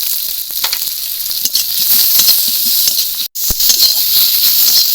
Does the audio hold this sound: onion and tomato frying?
yes